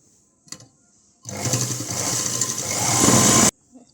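A sewing machine stitching a blouse runs in one continuous whirring burst of about two seconds, rising slightly in pitch and loudness toward the end, with brief quiet clicks before and after.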